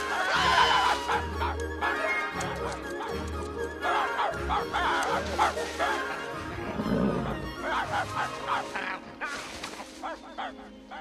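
An animated dog gives short barks, yips and whimpers in uneven bursts, mixed with other busy background sounds at moderate loudness.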